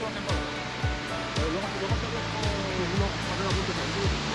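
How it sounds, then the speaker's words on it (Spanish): Waterfall at Tabayón del Mongallu in Asturias, a steady broadband rush of falling water, loud and continuous, with voices talking over it. "¿Qué? ¿Te mola la cascada, cariño? Es una pasada, ¿eh?"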